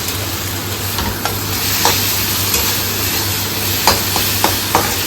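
Onions sizzle steadily in a hot pan, with a few sharp scraping clinks of a spatula stirring them now and then.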